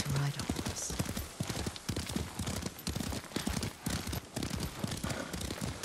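Horse hooves clip-clop at a steady riding gait in the Ghost of Tsushima video game, running continuously beneath two characters' conversation, with occasional sharp impacts mixed in.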